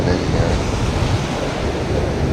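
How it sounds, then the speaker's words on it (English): Surf rolling steadily onto a chilly, quiet beach, a continuous broadband wash of breaking waves mixed with gusty wind buffeting the microphone, close and fairly loud with no pauses. "So there's some surf coming in"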